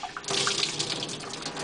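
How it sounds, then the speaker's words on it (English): A wet cloth towel is wrung out over water, giving a brief splashing trickle of runoff that streams and drips steadily after a short pause, close and fairly clear. "wring it out"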